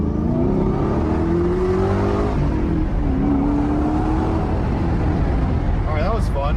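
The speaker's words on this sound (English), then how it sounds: "Just the feeling of driving this car is crazy." A low-mileage 2005 Ford GT sports car drives with a steady, loud engine drone throughout, its pitch rising and sliding through gear changes. Voices sound faintly under the engine.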